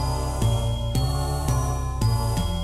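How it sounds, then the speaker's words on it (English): Bright synth bells strike in a steady rhythm, roughly every half second, over a sustained airy synth choir pad. "So that's why we have some synth bells, as well as synth choir."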